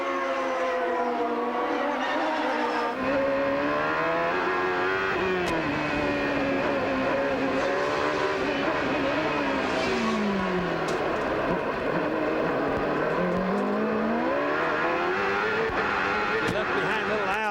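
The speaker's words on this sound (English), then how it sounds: "I just like listening to the motors here" CART IndyCar race cars at the 1995 Long Beach street race scream past in a continuous, loud wail of high-revving engines, the pitch sweeping up and down with shifts and passes.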